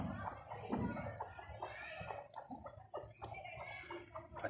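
A rooster clucks faintly and irregularly in a short series of soft calls, over quiet background noise that may include a distant voice.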